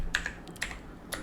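Computer keyboard keys tapped while entering VBA code for an Excel-to-Access database project: a few crisp, close clicks spaced unevenly across about a second, with no talking.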